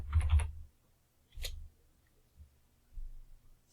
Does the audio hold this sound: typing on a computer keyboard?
yes